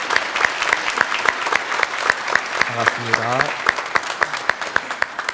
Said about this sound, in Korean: 어르신 잠깐 박수로 환영하겠습니다.